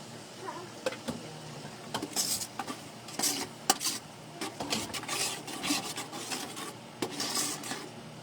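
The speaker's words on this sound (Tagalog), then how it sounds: "i-brown na lang natin yung ating sibuyas" Onions browning in a pan for carbonara give quiet frying noise under a utensil that repeatedly scrapes and stirs against the pan in irregular bursts, with some clinks.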